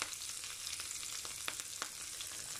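Garlic and parsley sauté in a pan with a steady, soft sizzle and a few faint clicks from stirring. It is close but quiet, with no voices.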